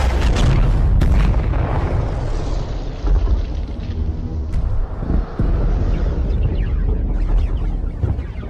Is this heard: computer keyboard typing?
no